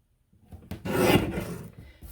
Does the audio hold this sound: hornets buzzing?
no